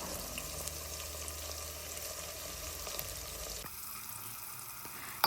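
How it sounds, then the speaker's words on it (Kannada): Green chillies, onion and tomato sauté in a pan for egg biryani, a low even sizzle that carries steadily, then drops quieter near the end before a brief knock; nobody speaks. "ಇದನ್ನೆಲ್ಲ ನೀಟಾಗಿ ಹಸಿ ಸ್ಮೆಲ್ ಹೋಗೋವರೆಗೂ ಬಾಡಿಸ್ಕೋಬೇಕು"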